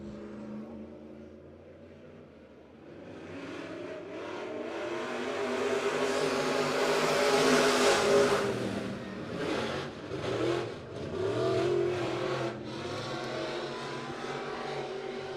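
USRA B-Mod race cars roar around the Crawford County Speedway dirt track during a heat race, engines swelling from a distant drone to a loud, revving pass and then fading and surging as the field circles.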